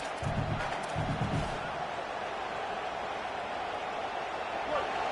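A stadium crowd in a college football video game gives off a steady, dense roar that fills the whole stretch. A few muffled thumps sound early, with no clear voices standing out.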